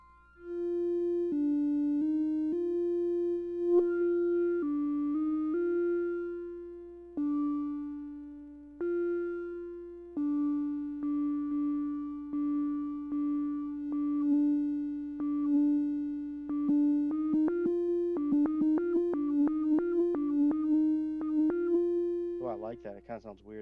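A modular synthesizer tone is being shaped through a filter, a steady pitched drone broken into repeated plucked, bouncing notes whose brightness shifts, ending in rapid stuttering pulses; loud and close with no voices.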